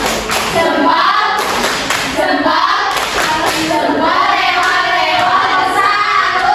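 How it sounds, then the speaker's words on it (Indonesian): A school class performing a rhythmic group clapping routine, patterned bursts of claps and hand taps in time, loud and close, with voices chanting along between the claps. "1, 2, 3. Tepuk salut."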